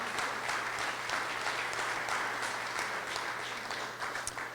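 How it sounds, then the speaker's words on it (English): An audience at a downtown building's grand opening claps in a sustained round of applause, a thick, even patter of many hands that continues throughout and fades slightly at the end. "Can we have a round of applause for the entire Gold Properties team?"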